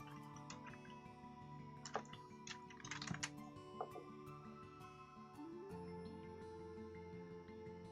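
Keys clatter on a computer keyboard in irregular bursts of quick clicks, loudest in the middle stretch, over a steady tonal musical background during a game stream.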